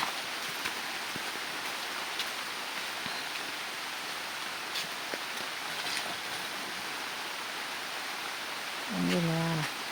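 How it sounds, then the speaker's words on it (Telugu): Heavy rain falls at night as a steady, moderately loud wash of noise, with a short voice-like sound appearing briefly at the very end. "వాన అయితే బీభత్సంగా పడుతుందండి"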